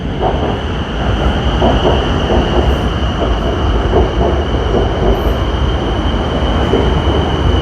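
BTS Skytrain in Bangkok passing through a station, a loud continuous rumble of wheels and motors with rhythmic clatter and a high steady whine, close by.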